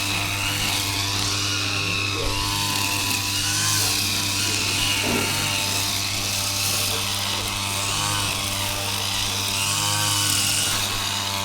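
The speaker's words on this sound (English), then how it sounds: "she sure likes running that grass trimmer" A petrol grass trimmer engine runs continuously at a steady, fairly high idle, giving an even buzzing drone with slight wavering for about eleven seconds, heard fairly close with no talk over it.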